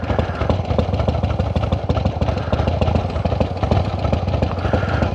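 A 1975 Harley-Davidson XLCH motorcycle engine idles steadily and close by, a loud, rough, continuous rumble with rapid even pulsing that holds level throughout, with no talking over it.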